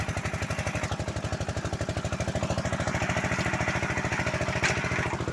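A hay mower running low while cutting a swampy field knee-deep in bog gives a loud, close, steady engine chug with fast even pulses and mechanical clatter throughout.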